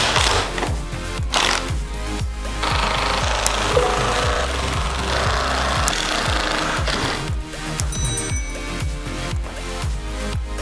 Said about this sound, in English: while I drove the screws home.